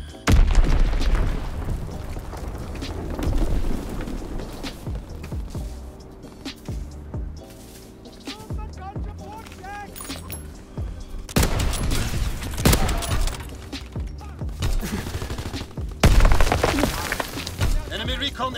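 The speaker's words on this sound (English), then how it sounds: "Enemy bomb incoming, get to cover!" An enemy bomb explodes in a WW2 sniping video game, with heavy booms and bursts of cracking gunfire rolling in uneven waves, loud and close, while voices talk over the battle.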